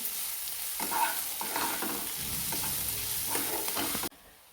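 Capsicum (bell pepper) sautéing in a pan after onions, a close continuous sizzle with scraping stirring strokes, steady throughout before cutting off abruptly near the end.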